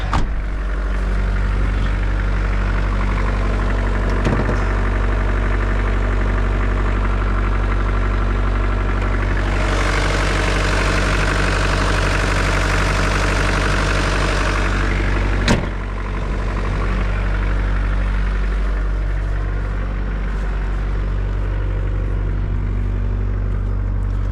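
A 1993 Mitsubishi Pajero's 2.8-litre turbodiesel idles steadily up close in the open engine bay, a loud, even low rumble with a brief rise in pitch midway and a sharp knock near the end.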